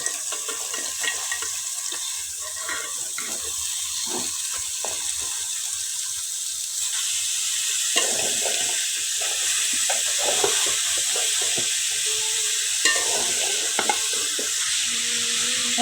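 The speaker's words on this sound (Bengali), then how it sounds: "এখন আমি বাঁধাকপিগুলো দিয়ে দিলাম।" Shredded cabbage with carrot tossed into hot oil spiced with black cumin, a low continuous frying hiss broken by scattered stirring clatters and soft scrapes, heard alone without talk.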